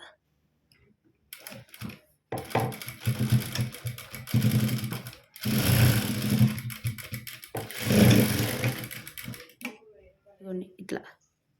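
A sewing machine runs in several bursts of fast, even mechanical whirring while stitching a prince-cut blouse, with short pauses between runs and a voice speaking around them.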